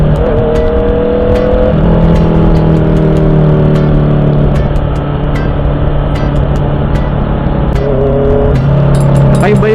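Honda CB650R motorcycle engine braking in traffic, a steady loud engine drone with shifting harmonic pitch as revs fall and rise, continuous throughout with a brief change near the end.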